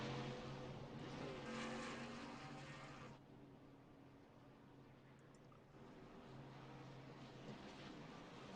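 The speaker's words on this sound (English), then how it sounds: "Watch the guys race off a pit road." Race cars in a NAFAS racing series event at Kansas pull off pit road, a broad engine roar that drops off sharply midway and then builds again as more cars accelerate, heard from a distance with no talk.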